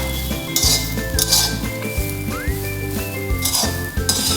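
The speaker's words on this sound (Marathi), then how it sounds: "आता हे देखील आपण तुपावरती व्यवस्थित असे परतून घ्यायचे आहे" Dry fruits and freshly grated coconut being sautéed in ghee in a pan: a spatula clinks and scrapes against the metal over a low sizzle, with background music running throughout.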